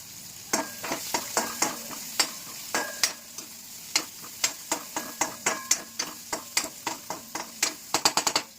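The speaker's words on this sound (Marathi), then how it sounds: "इथं हे पनीर कांदा शिजतोय." Paneer and onion cooking in a pan, with a spatula scraping and clacking in a steady run of sharp strokes over a soft sizzle, the strokes quickening toward the end; close and alone with no voices.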